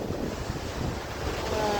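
Waterfall in Samoa roars in a continuous broadband rush close by, steady and loud with wind buffeting the microphone and no voices.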